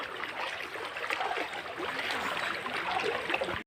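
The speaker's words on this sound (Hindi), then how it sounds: "ये देखिए घर का हाल, पूरा घर का अंदर पानी घुसा हुआ है।" Floodwater runs through a submerged house during flooding in Assam, a steady trickling, gurgling flow close by that continues evenly with no voices over it.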